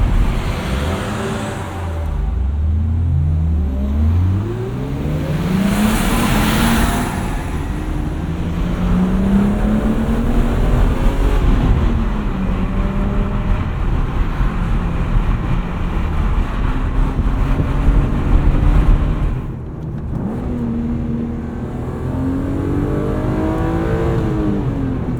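A 1995 BMW E36 M3 Lightweight engine revs as the car is driven from inside the cabin, pitch climbing and dropping through gear changes under steady road and wind noise.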